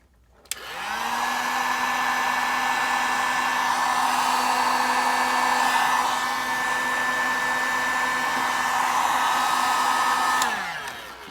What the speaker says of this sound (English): And then I'm going to heat shrink it.